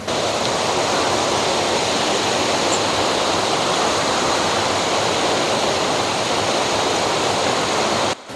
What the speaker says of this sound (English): It's flowing underneath the cave. It comes out here and it travels down the valley.